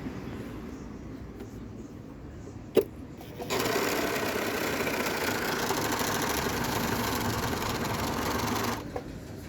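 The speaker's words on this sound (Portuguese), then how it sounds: "Vou fechar a máquina aqui, ó, pra gente poder costurar agora o ponto cadeia" Sunspecial SS320 overlock machine sewing a chain stitch: after a quiet moment and a single click, a fast, steady whirring clatter runs for about five seconds, then stops.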